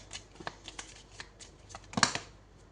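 Tarot cards being shuffled and drawn, a run of light papery flicks and riffles building to a louder, denser burst of card shuffling near the end, close and without talk.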